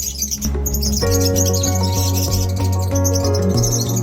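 Bright, rapid lovebird chirps flutter high above a loud, steady musical backing that plays throughout.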